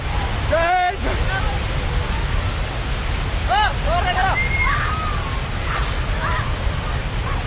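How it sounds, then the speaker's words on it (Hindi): Floodwater rushes toward houses in Jammu and Kashmir with a steady, loud roar of churning water, while voices speak over it intermittently. "ये देख सकते हो घरों की तरफ से पानी जा रहा है, ये पानी पूरा घरों की तरफ जा रहा है।"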